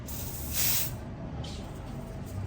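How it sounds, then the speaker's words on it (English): A single short perfume spray burst hisses for about half a second near the start, with a fainter second puff a moment later, over a quiet background. "I'm going to be spraying this part that I have the Vaseline"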